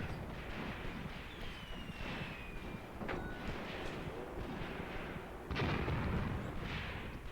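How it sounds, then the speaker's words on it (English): 5 cm mortar fire in the Graviteam Tactics game set around Kharkov in 1941: dull booms and crumps overlapping a continuous rumbling battle din, with one louder blast near the end and faint whistling streaks. "now we got 5 centimeter mortars that can see those positions"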